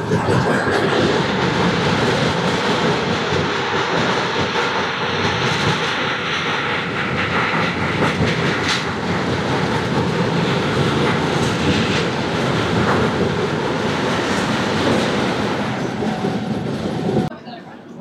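Purushottam Express passenger train rolling into Barabhum station in the evening, a loud, steady rumble of wheels and carriages with faint clatter running continuously, easing off abruptly at the very end.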